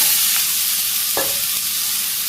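Onion and vegetables fry in a pan for a Bangladeshi home-cooked curry, a steady close sizzle with a faint stir or scrape partway through.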